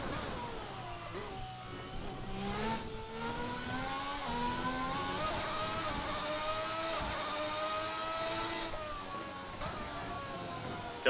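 An early-1990s Formula 1 V12 screams in Assetto Corsa at Monza, its high harmonic whine rising and falling steadily through upshifts and downshifts, loud and continuous for the whole stretch with no talk over it.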